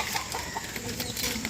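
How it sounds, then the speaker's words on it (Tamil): Soft, scattered country hen clucks in a noisy outdoor setting, short broken calls repeating over a steady background hiss. "இதாங்க இன்னொரு கோழி, அதையும் கூண்டுக்குள்ளே விட்டாச்சு."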